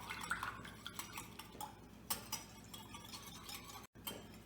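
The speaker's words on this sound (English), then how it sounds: "I'm going to whisk that together real quickly" Quick whisking of a single egg for sweet crêpe batter in a bowl, a busy run of light metallic ticks and clinks of the whisk against the dish, fairly close and steady, with no talking.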